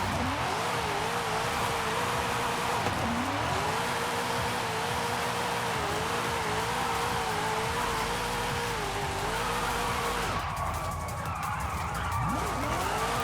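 A costly drift-build car in Forza driving and revving, its engine tone rising and falling steadily with tire squeal near the end, loud and close with no talk.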